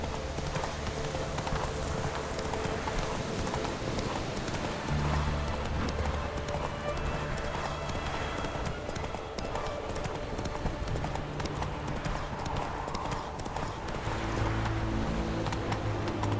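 Roach, a horse in The Witcher 3, gallops with a steady, continuous clip-clop of hooves over a dense game soundscape, with an occasional faint whinny.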